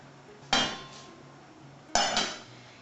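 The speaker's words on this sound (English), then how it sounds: "So I'm going to take the lid off." A metal lid comes off a pot of fruit compote simmering in apple juice: two sharp metallic clanks about a second and a half apart, each ringing briefly before fading, close by with no talking.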